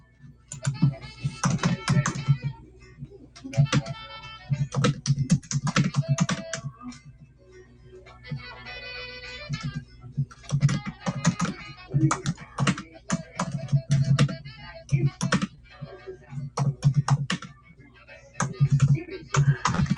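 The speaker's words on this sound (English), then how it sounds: "I'm just typing a message saying," Someone types a message on a computer keyboard: rapid bursts of close, crisp key clicks broken by short pauses, running steadily for about twenty seconds.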